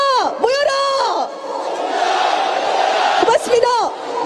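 A large crowd at a candlelight rally of about 100,000 people in Korea shouts slogans in unison, loud and close, with a sustained roar of voices between the chants.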